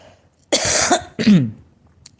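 Two harsh, close coughs, the first longer and rasping, the second shorter with a wheezy tail, then quiet.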